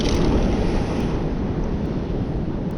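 Big ocean waves roar in a steady, loud wash of surf, mixed with heavy wind buffeting the microphone, heard from the shore while fishing.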